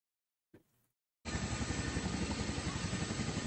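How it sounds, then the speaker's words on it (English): A dual-rotor military cargo helicopter drones loudly and steadily with a fast rhythmic blade chop after a brief faint knock and pause. "They're cargo helicopters mostly."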